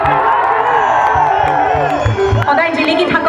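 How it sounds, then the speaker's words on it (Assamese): Loud crowd at the 9th Mising Youth Festival cheering, whooping and clapping continuously, with a big singer's music and voices mixed in throughout. "এটা জোৰদাৰ হাত চাপৰি হ'ব লাগে"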